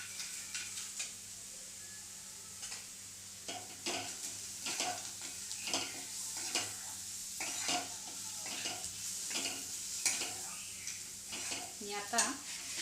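Green chillies and peanuts sautéing in a pan for Maharashtrian vangyache bharit (smoky roasted eggplant mash), with steady sizzling and frying under repeated scraping and stirring strokes of a spoon against the pan, close and continuous.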